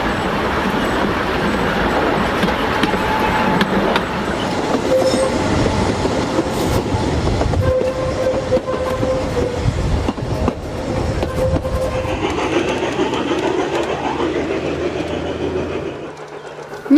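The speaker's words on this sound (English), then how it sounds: "This preserved railway is very popular and runs into the Ardèche." A preserved railway train running into the Ardèche rumbles past steadily with clattering wheels and a low mechanical roar, fairly close and loud, fading slightly near the end.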